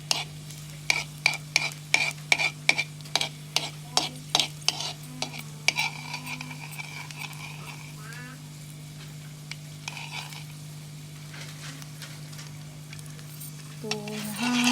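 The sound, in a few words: stirring garlic sautéing in a pan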